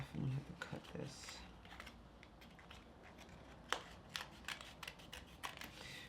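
Something being cut at a desk, close, quiet snips and crisp clicks in an irregular sequence, with faint handling rustle and a person talking softly.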